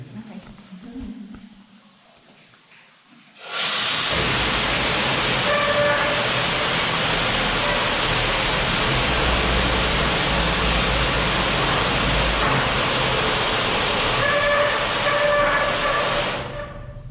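A mine slusher machine runs in an underground tunnel at the Old Hundred Mine. It kicks in abruptly after a short quiet stretch into a loud, continuous roaring hiss and clatter that holds steady for over twelve seconds before easing off.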